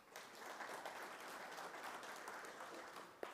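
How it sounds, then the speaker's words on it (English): A round of applause from an audience at a military veterans suppliers information day, sustained steady clapping from a crowd in a hall, fairly faint and distant, running for a few seconds. "Please welcome Mr. Dlungwana with a round of applause"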